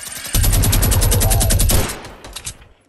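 Rapid minigun-style gunfire in a squad battle-royale match: a loud, continuous machine-gun burst of evenly spaced shots lasting about a second and a half, then dying away into a few scattered, fainter shots.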